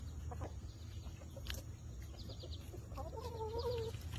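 A hen clucks in short, close bursts near the end, against a steady low background hum with no talking.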